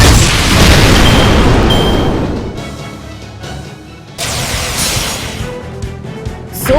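Loud booming explosion from the video game Fate/Grand Order, a heavy blast with a long crashing roar that fades, then a second burst of rumbling impact follows, with no voices.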